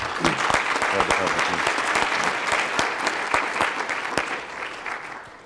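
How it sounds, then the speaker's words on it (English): Audience applause at a conference hall, steady crisp clapping from many hands with distinct individual claps popping out, fading slightly at the end. "Give them a round of applause, guys."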